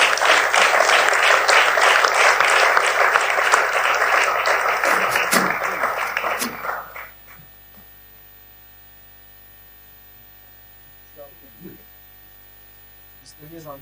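An audience applauds at a French-language eloquence contest semi-final, dense clapping for about six seconds before fading out, leaving a quiet room with low electrical hum and a few faint sounds.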